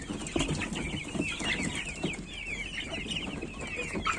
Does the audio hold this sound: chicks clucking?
yes